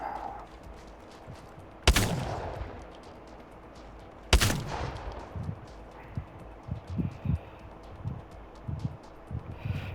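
Two loud, sharp blasts of an EVA-8 shotgun in Apex Legends Season 14, fired a few seconds apart, each with a ringing tail, followed by quieter footsteps and clattering movement.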